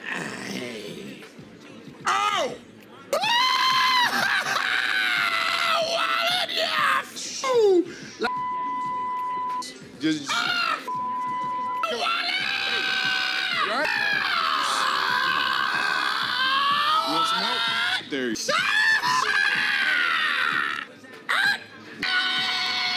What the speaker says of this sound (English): Let's get to the screaming.